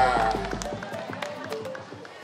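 A campus audience at a university faculty event claps together in a quick, steady rhythm of hand claps, fairly close and moderately loud, with crowd noise and some voices underneath.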